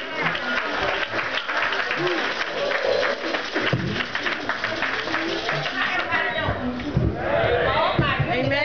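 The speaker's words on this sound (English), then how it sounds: "Give her a round of applause as she" A church congregation applauds Sister Beatrice Hutson at a bishop's birthday celebration, with sustained crowd clapping mixed with voices and chatter throughout.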